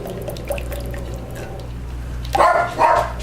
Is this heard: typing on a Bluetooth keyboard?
no